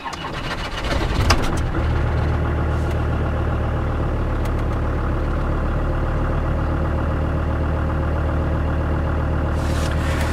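A Land Rover Discovery 2 with the TD5 diesel cranks and settles into a steady, loud idle, a deep continuous rumble heard close up with no talking over it.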